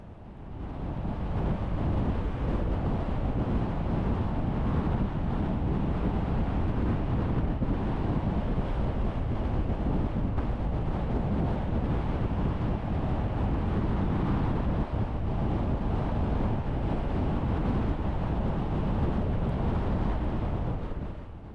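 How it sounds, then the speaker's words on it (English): Strong, steady wind roars and buffets the microphone without a break along a desert road in Death Valley, a dense low rumble filling the scene from start to finish with no voices. "Except for the wind."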